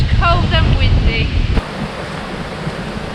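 Wind buffeting a microphone on a seaside walkway above the sea in Portofino, a heavy low rumble, with a voice talking over it in the first half before the gusts ease into a softer steady hiss.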